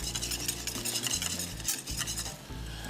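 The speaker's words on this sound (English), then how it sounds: "Give that a nice little mix." Butterscotch chips being stirred into a boiling sauce in a pot, a steady scraping and bubbling churn with faint sizzle that runs the whole time, close and fairly quiet, with no talking.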